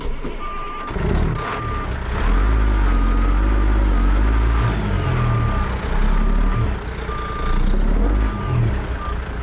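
A truck engine in American Truck Simulator heard from outside the cab, a steady low rumble that swells and eases over about nine seconds, with a repeating reversing beep sounding on top and no talking.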